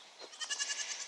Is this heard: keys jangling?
no